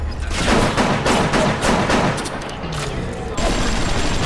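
Rapid gunfire in BioShock, a loud close burst of repeated shots in a quick uneven rhythm that continues for several seconds, briefly thinning before a fresh volley.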